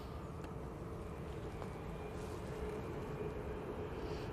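Jet2 Airbus A321neo in holiday livery at Manchester Airport, heading out for Dalaman: a steady, broad engine roar that holds at an even level throughout without any talk.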